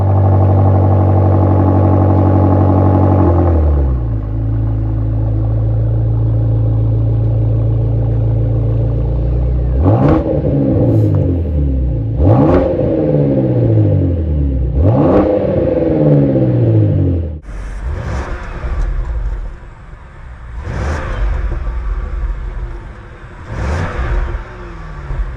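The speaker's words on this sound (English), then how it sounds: "So we're going to cold start it in a minute, then take it down the road and you can hear it for yourself." 2023 Range Rover V8 P615 SV L460 with a Quicksilver stainless exhaust starts cold with a loud deep rumble that settles into a steady high idle, followed by a series of sharp revs rising and falling, loud and close.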